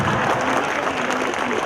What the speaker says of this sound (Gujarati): તાળીઓ પાડો